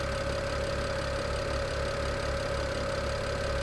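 Steady idle of a car engine just reassembled after repair, a close, even low rumble with a faint regular pulse and a constant whine, no voices.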